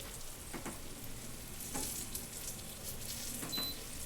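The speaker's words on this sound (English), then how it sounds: "You're not sizzling." Pork chops sizzle and crackle steadily in a skillet, with occasional stirring scrapes; soft and continuous with no talking.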